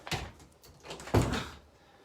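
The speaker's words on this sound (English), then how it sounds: "My dog's figured out how to turn the doorknob." A dog works a doorknob and pushes a door open indoors: a short rattling click, then a louder thump and creak about a second later, both close and fairly quiet.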